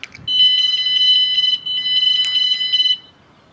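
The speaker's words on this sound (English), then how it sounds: "wait for that beep." An electronic alarm-style beep from a dashcam system being switched on in a motorhome, a steady repeating high-pitched tone running for about three seconds with a short break midway.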